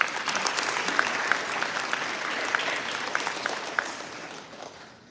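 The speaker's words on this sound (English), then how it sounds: "Let's give him another round of applause." An audience at a dance arangetram performance applauds with dense, steady clapping that fades out toward the end, heard alone.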